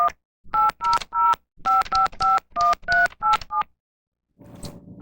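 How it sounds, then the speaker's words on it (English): A toll-free telephone number being dialed, about a dozen crisp DTMF keypad tones in quick, slightly uneven succession, followed after a short pause by a faint ringing line, clear and close with no talking. "You just dial this toll-free number."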